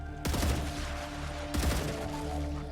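Gunfire in the sci-fi video game StarRupture, two loud bursts of rapid shots about a second apart, each followed by a ringing tail over a steady low game hum.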